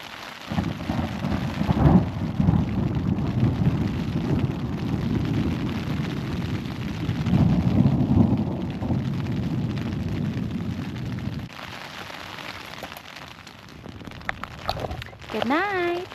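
Thunderstorm with rain at a mountain camp in the Wind River Range, a steady loud wash of rainfall with low rumbles of thunder rolling through, fading and thinning toward the end.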